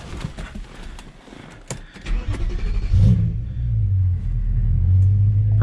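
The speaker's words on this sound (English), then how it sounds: "Now car should start no problem." A BMW E9X M3 engine fires up after a new battery is fitted: a few seconds of busy starter cranking and clatter, then the engine catches into a loud, close, steady low rumble at idle, with no talking.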